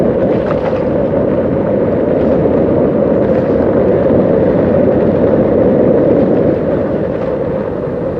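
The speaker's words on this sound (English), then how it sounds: "it's quite a breezy day as well, so I hope you can hear me" Steady, heavy wind buffeting on a microphone while cycling on a breezy day near Basingstoke, a dense low rumble filling the whole stretch at constant loudness, with no voice breaking through.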